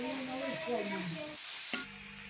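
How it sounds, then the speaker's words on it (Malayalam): Chopped tomatoes sizzle in a pan while being stirred and sautéed, giving a soft, steady frying hiss with brief scraping stirs and a short break near the end. "ഇതിലേക്ക് അരിഞ്ഞു വെച്ചിട്ടുള്ള തക്കാളി ഇട്ട് കൊടുക്കണം. എന്നിട്ട് വീണ്ടും ഒന്നും കൂടി ഇളക്കി"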